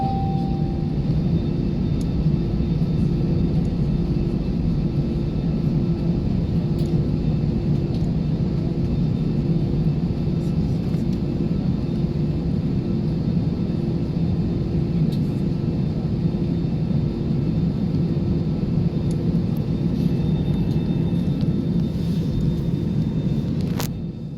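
Steady, loud jet engine roar fills the cabin of a passenger airplane taking off on a flight from Pakse to Vientiane, Laos, a constant broadband rumble with a sustained tonal whine that holds unbroken throughout.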